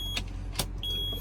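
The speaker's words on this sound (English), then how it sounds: "Let's try this again now that we can hear the truck." A junkyard garbage truck runs with a low, steady engine rumble under a couple of sharp clicks and a thin electrical whine, heard close up with no one speaking.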